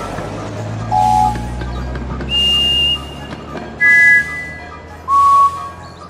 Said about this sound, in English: Which one of these whistles is like Percy's?